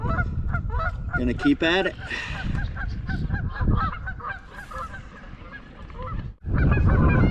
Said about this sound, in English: Freaking loud ass geese over there